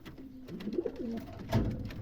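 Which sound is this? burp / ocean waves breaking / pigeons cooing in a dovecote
pigeons cooing in a dovecote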